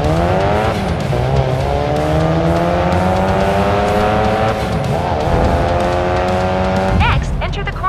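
Race car engine in the Racing Master game revving hard at the start, a loud continuous rising whine with steady harmonics, then a brief tire squeal near the end.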